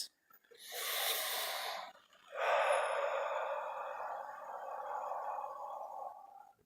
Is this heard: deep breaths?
yes